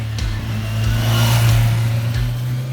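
A motorcycle engine running smoothly at speed, a steady close hum with a low droning tone that swells slightly and eases off, with faint wind rush and no talking.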